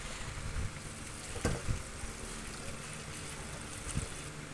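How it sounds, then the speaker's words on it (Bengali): Whole muddy leafy greens are rinsed by hand in a basin of water, a few splashes breaking through a steady close slosh. "শাকগুলো এইভাবে আগে ধুয়ে নেব, আস্ত শাক ধুয়ে নেব, তারপরে কুচাবো।"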